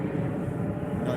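An airplane passes overhead during an outdoor fishing session in West Wales: a steady, loud broadband drone that holds level throughout without fading.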